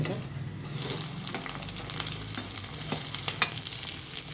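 Onions sizzling in oil in a pan for spinach chutney, a steady crackling fry with occasional stirring clinks, close and moderately loud with no talking.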